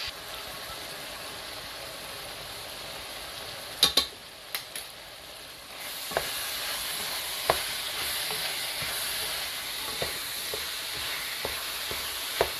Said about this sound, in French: et on va continuer à remuer comme ça